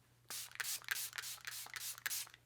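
Several short hissing bursts of Jaclyn Cosmetics makeup setting spray, close by, in a quick irregular series with brief pauses between them.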